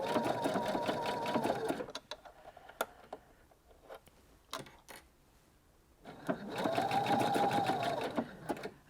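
A sewing machine stitching a blind hem runs in two steady whirring bursts, with quiet clicks and handling noises in the pause between them.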